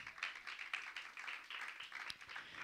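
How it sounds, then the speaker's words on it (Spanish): Church congregation clapping together during a Spanish-language sermon, a dense, steady patter of many hands filling the hall for a few seconds, moderately loud with no voices over it. "Dale palmas."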